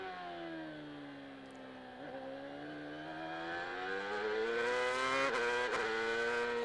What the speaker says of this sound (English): Shifting up to 3rd and then banging into 4th immediately.